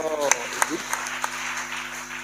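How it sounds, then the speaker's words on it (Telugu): A church congregation at a fasting-prayer gathering claps in a slow, rhythmic series of sharp claps under a sustained voice or musical tone. "గట్టిగా చప్పట్లో."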